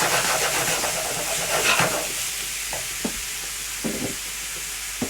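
Honey cooking in a pan for a sausage casserole gravy gives a steady broad sizzle, loud at first and then thinning out, with a few sharp knocks and scrapes near the end.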